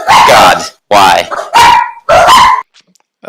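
Dogs barking loudly and close by in a home: four sharp, strong barks in quick succession, then near silence with a few faint trailing sounds.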